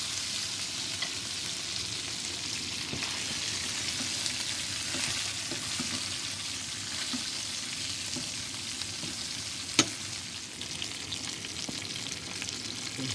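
Salmon with garlic and spices frying in a pan, a steady close sizzle with soft crackles and occasional sharper pops, one brief louder clack partway through.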